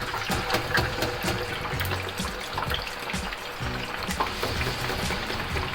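Cold cut potato chips deep frying in a basket of hot oil, a dense continuous bubbling sizzle, close and steady, with no talking.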